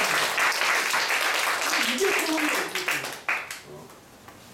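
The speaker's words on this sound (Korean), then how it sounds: "우리 한번 박수합시다" A church congregation breaks into loud, dense clapping during a service, a voice speaking over it before the applause tapers off and fades after about three seconds.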